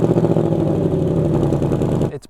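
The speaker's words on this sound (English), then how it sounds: "This engine sounds fantastic." A 2024 Ford Mustang GT V8 with active exhaust running, a close, loud, deep steady rumble that holds for about two seconds before cutting off abruptly.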